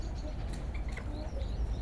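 Faint bird chirps and short trills, scattered and distant over a low background rumble, in spring.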